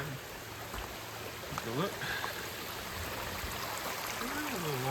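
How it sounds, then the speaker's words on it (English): A small mountain stream runs beside a hiking trail on a descent through hills in the White Mountains, giving a steady broadband wash of flowing water close by, with someone speaking briefly over it. "Coming up on a little mountain stream here to the side."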